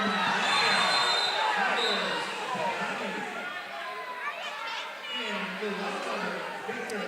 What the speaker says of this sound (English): So crowd's getting into it.